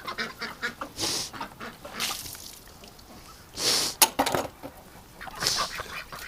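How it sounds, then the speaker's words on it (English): Several ducks splash and quack in a bathtub of fresh water, loud bursts of calling close by alternating with brief quieter gaps and a sharp splashy knock. "Duckies sure love the bathtub."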